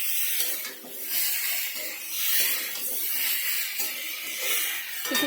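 Cabbage is stir-fried in a pan, a steady close sizzling hiss with soft scraping swells, continuing for several seconds without speech.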